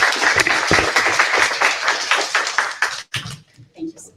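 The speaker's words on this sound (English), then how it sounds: "Can we please give him a round of applause?" Audience applause at an innovation awards ceremony, a burst of clapping with voices mixed in that continues for a few seconds, then breaks off abruptly into scattered sounds and quiet.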